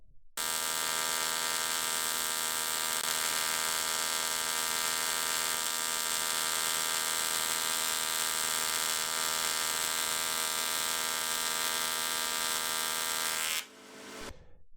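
Welding an aluminium wheel rim, a steady, loud electrical buzz with a dense harmonic hum that runs nearly unbroken, then cuts off near the end.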